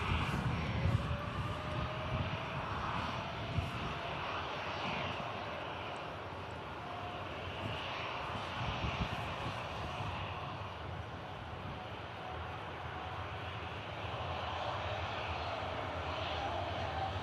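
A Jet2 Airbus A321neo airliner, registration G-SUNF, taxis out at Manchester Airport, its engines giving a steady, moderately distant roar over broadband background noise that holds throughout.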